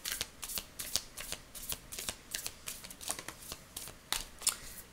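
Tarot cards being shuffled by hand, a quick run of crisp, papery riffles and taps in an uneven rhythm, close and fairly quiet, with no talking.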